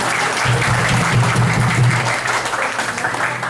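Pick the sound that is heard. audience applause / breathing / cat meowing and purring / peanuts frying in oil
audience applause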